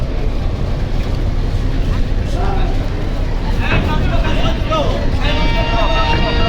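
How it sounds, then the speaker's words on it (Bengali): Passenger launch Shuvoraj-9 arriving with Eid travellers at Barisal ghat, a steady low engine and water rumble under wind noise, with crowd voices and talk and a sustained horn-like tone near the end. "ঈদ যাত্রী নিয়ে বরিশাল ঘাটে সর্বপ্রথম শুভরাজ নয় লঞ্চটি আজ চলে আসছে"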